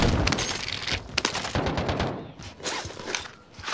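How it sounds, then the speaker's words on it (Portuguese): Bursts of automatic gunfire crackle through a Warzone match, repeated volleys at mid distance with brief gaps, mixed with game ambience and faint footsteps. "Opa, eu escutei tiro."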